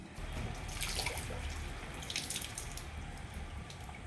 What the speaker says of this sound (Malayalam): ഞാനിപ്പോൾ വെള്ളം ഒഴിച്ചതാണ്.